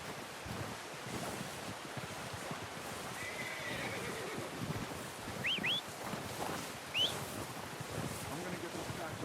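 A faint horse whinny in Red Dead Redemption 2 rises briefly over a steady windy outdoor hiss, followed by a second short neigh; the scene is otherwise quiet.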